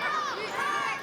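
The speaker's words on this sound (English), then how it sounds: "I think it's pretty obvious they're cheering for the team in purple" Wrestling crowd at a NashPro tag-team match cheering loudly in a steady roar of voices and shouts, sustained throughout at close range.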